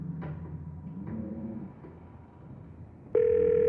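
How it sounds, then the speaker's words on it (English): A phone call in the visual novel Scarlet Hollow: a few soft clicks and dialing blips, then a loud, steady tone begins abruptly and holds to the end, with no talking. "You pull out your phone and call."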